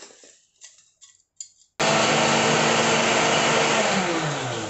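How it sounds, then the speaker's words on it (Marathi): Electric mixer grinder blending a warm wheat-flour modak mixture kicks in abruptly after a few soft clatters, then runs as a loud, steady, close-up whir until the end. "हे आता आपण मिक्सरला बारीक करून घेऊ"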